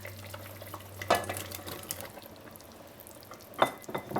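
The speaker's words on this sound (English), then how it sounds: "Now we'll remove the lid from the pot and we will add the cucuzza." Cucuzza squash pieces dropped into a simmering pot of potatoes, with soft splashes and clanks of pan and utensil over a quiet bubbling background, two clear plops about two seconds apart.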